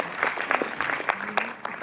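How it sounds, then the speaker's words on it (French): A full-house cinema audience claps together in a burst of applause, a dense crackle of many hands that holds steady for about two seconds. "Je pense qu'on peut tout d'abord s'applaudir."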